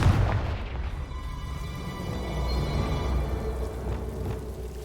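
Confringo fire spell exploding in a Hogwarts wizarding video game, a deep booming burst followed by a rumbling roll that lingers for several seconds, with no talking.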